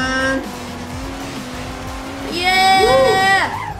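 Roblox Driving Empire car drifting with a loud engine drone and a rising, whining tire squeal near the end, under excited talking.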